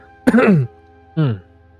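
A tabletop roleplaying player performs a character coughing on food: two short throaty coughs, close and clear, separated by a brief pause.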